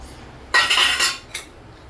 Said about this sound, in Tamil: ரவை போட்டாச்சா காய்ஸ் கிண்டி விட்டுட்டே இருக்கணும்